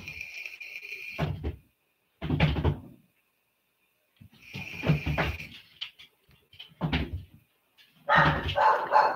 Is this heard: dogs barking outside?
yes